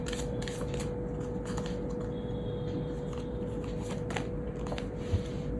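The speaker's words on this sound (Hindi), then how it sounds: "एक कार्ड और लेते हैं।" Tarot cards are shuffled close up, with quick repeated papery flicks and riffles in a steady rhythm over a constant background hum, and no talk.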